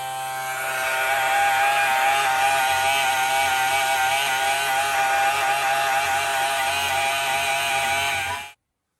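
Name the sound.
electric pump draining coolant from a Ford F350 tank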